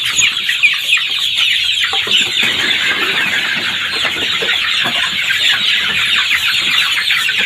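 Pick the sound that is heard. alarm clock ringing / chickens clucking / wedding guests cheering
chickens clucking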